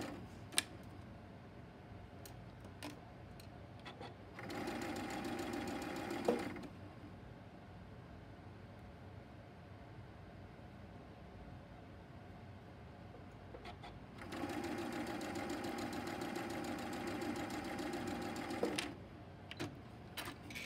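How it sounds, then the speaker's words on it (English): A sewing machine stitches a quilt block seam in two steady whirring runs of a few seconds each, close and fairly loud, separated by quiet handling sounds. "We're going to sew this seam."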